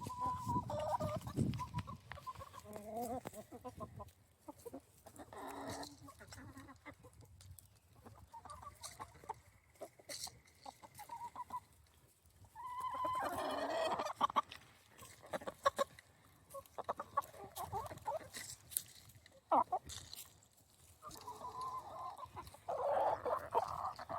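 Backyard hens cluck on and off while pecking at a new enrichment toy, a close mix of soft murmurs and sharper bursts that rise and fall over the whole stretch.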